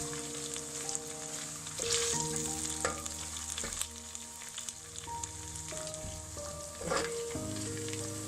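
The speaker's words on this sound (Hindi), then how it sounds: "लहसुन अदरक को हम 2 से 3 मिनट तक फ्राई करेंगे।" Steady sizzling of garlic and ginger frying in a hot pan, with occasional clinks and scrapes of a utensil stirring, close and continuous.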